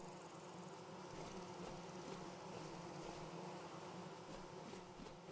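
Soft, continuous buzzing of bees around skeps in the video game Vintage Story, a faint steady drone with no talk.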